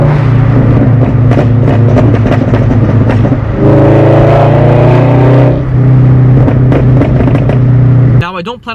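Loud, close engine and exhaust drone from a straight-piped Scion FR-S running a pop tune, rising in revs midway before easing back, with crackling pops and someone speaking over it.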